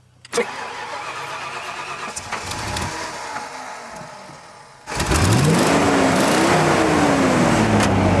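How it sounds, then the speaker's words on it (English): A stuck Dodge truck's engine cranks steadily for several seconds, then catches and roars to life, climbing into a loud, rising rev before settling into a close, even run. "Crank it, see what it does."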